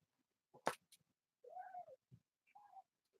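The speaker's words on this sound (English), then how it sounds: "My cats are going crazy." Indoor house cats cry out in two drawn-out meows after a sharp burst of noise, each call rising and falling, fairly close and alone without talk.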